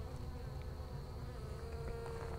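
Honey bees from a small swarm drone in a dense, continuous buzz around a queen inspection, close and steady throughout, with faint wingbeat tones layered over the hum and no talking.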